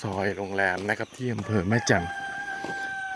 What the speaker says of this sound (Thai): ได้ยินเสียงไก่ขันชัดมาก